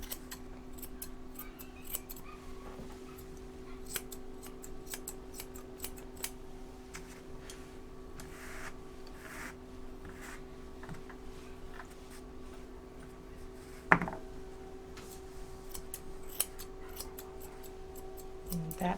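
Scissors snip steadily through an American Cocker Spaniel's coat during show grooming, a rapid train of crisp, close metallic clicks over a faint steady hum, with one louder snap partway through.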